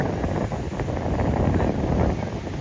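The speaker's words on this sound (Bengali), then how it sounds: "হ্যাঁ বাতাস কত সুন্দর" Steady, loud wind buffeting the microphone with a low rushing roar, continuous throughout, on the open, breezy seaside at Kuakata beach, Bangladesh.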